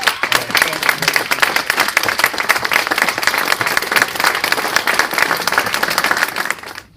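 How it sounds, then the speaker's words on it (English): An audience at an honors ceremony applauding to welcome an award recipient, dense sustained clapping from a crowd that fades out at the very end. "So everyone, please join me in the warmest welcome to Dr. Becky Clark"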